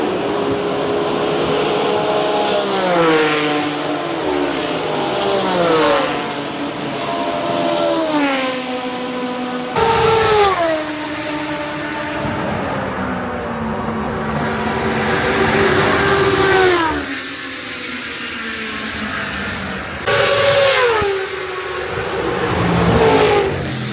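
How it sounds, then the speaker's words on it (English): Formula 1 race cars with V10 engines screaming past one after another at Road America, each a loud, high-pitched wail that rises through gear changes and fades as it passes, with a new wave arriving every few seconds. "And here come the Formula cars."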